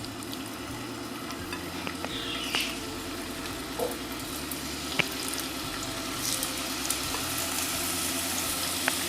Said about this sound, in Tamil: இப்போ இது ஒரு வாட்டி இதில் ஃபுல்லாக ஃப்ரை பண்ணி எடுத்துக்கலாம்